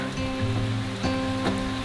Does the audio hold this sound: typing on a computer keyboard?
no